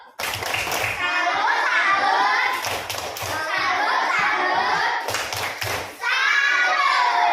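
Schoolchildren in a classroom chant the 'tepuk salut' clapping cheer together, their voices loud and close over a rhythmic pattern of hand claps and dull thumps that starts, pauses briefly, and repeats.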